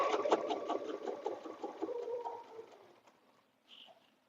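A sewing machine stitches a quilted butterfly bed runner with a steady whirring hum over the first three seconds. It fades to near silence, then a brief bird coo surfaces near the end.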